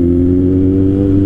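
A Kawasaki Z800 800cc naked motorcycle engine roars steadily at close range while accelerating in second gear, a deep throbbing hum holding a constant pitch with no voices.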